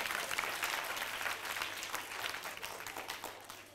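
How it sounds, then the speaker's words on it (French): An audience applauds a school team at the final of a televised bilingual schools quiz in Niamey, sustained dense clapping heard fairly faintly throughout. "Pour cette finale, nous avons Nyalga 3, que je demande d'applaudir très très fort."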